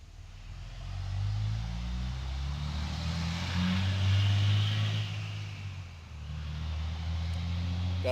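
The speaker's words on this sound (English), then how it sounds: "Diesel trucks everywhere, fouling up your videos" Heavy diesel trucks pass on a rural road, a deep low rumble swelling and fading over several seconds and returning toward the end, fairly loud and steady with no talking.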